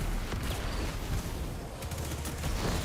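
Grenades thrown and bursting in a Destiny-style sci-fi shooter during a Solar Warlock fusion grenade build, heard as a dense, continuous wash of explosions and gunfire with no voices over it.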